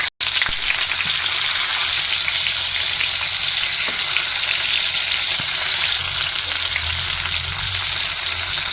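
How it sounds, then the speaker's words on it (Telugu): Quartered tomatoes, three or four, sizzle in a hot pan for a village-style cucumber chutney, a steady loud crackling fry running throughout with faint occasional stirring and no talk. "సో ఇప్పుడు ఇదే ప్యాన్లో నేను టొమాటోలు వేసుకుంటున్నాను అనమాట"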